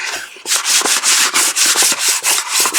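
Sandpaper lightly rubs over a wooden box in quick, even back-and-forth strokes, a close scratchy rasp repeating about five times a second with no talk.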